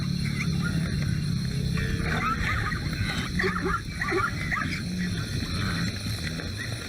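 Lions in the African wild, a lioness with cubs following on a night hunt, give low rumbling growls and grunts close by over a constant hiss of insects, with no talking.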